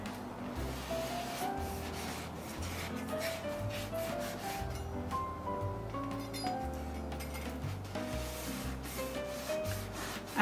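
A bread knife sawing through a freshly baked, still-warm challah loaf, producing a soft, continuous rasping and rubbing texture with back-and-forth strokes, under gentle background music.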